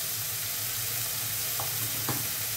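Onions and tomatoes cooking with turmeric and spices in a pan for aloo gobhi with gravy, giving a steady close sizzle with two brief stirring scrapes partway through.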